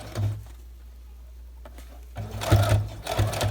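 A sewing machine topstitches a bias binding finish, its motor whirring in two short bursts close by with a brief pause between them.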